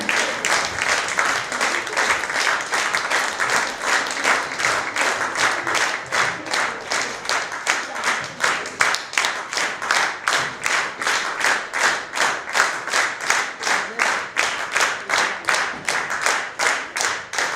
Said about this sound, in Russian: Громче овации, друзья.